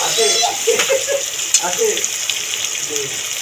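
Cabbage is sautéed with shrimp, green chili, ginger and tomato in a pan, giving a steady loud sizzle with some stirring and scraping. A voice talks over the cooking throughout.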